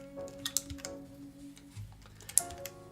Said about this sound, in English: Pressing the switches without the keycaps counts as spoiling as well?